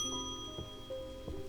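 A bell rings in the video game Strange Antiquities, faint repeated tones over a quiet steady backdrop of held musical notes.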